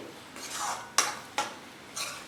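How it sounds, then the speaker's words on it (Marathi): Paneer masala gravy made with homemade spices being stirred in a pan, quiet scraping swirls broken by a few sharp clinks of a spoon against the metal, close and faint. "ग्रेव्ही एकदा मिक्स करून घेऊया"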